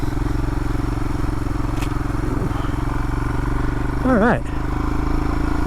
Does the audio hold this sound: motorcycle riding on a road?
yes